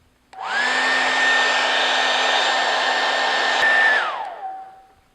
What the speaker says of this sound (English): For best results, heat the glue up with a hairdryer.